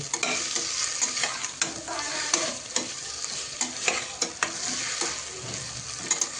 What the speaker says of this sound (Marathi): टोमॅटो देखील चांगले परतवून घ्यायचे.